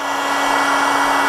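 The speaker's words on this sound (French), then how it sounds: "je me mets juste au-dessus du décapeur" A heat gun blows hot air over a leather seat from a BMW M4 to dry it before applying colour, a loud steady blowing hiss with a constant whining tone, close and continuous.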